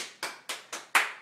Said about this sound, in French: Je voudrais que vous vous applaudissiez.